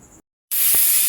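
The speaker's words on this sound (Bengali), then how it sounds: "এবার আমি কুকারটা ঢেকে দেব, ভালো করে লাগিয়ে দেব, কিছুক্ষণের জন্য সেদ্ধ হতে দেব" Pressure cooker on the stove: after a brief quiet gap, a loud, sharp hiss of escaping steam bursts out and holds steady to the end.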